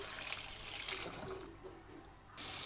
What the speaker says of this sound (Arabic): بس اشطفها شطفة جامدة بالمية الساقعة كده كويس جدا